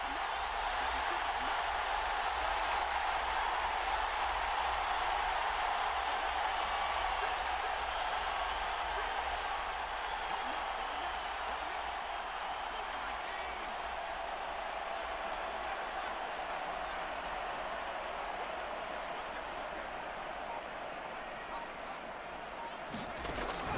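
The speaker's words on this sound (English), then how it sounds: "This crowd turning up the decibel level." Steady, loud stadium crowd roar in Madden NFL 24 during a Giants vs Saints game, a continuous broadband wash of cheering that holds for the whole stretch, ending abruptly.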